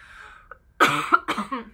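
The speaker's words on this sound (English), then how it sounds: "I'm going to cough again" Two or three harsh coughs close to the microphone after a brief quiet moment, with no talking.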